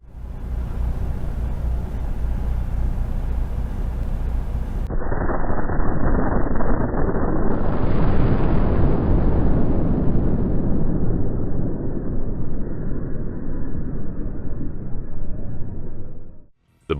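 Explosion in the wood-chip digester area of a paper mill, a loud sustained roaring blast that keeps rumbling and hissing for over ten seconds before cutting off abruptly.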